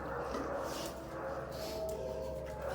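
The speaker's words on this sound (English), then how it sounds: "Don't barking at the kitty." A dog gives soft yips and whimpers at a cat, close and fairly quiet, with high whiny tones rising and falling over a low steady background hum.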